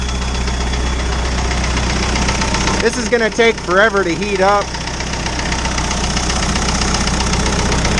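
An indirect injection engine in a Suzuki Spryte build idles with a steady, clattery knock, running close and loud throughout while someone speaks briefly over it midway.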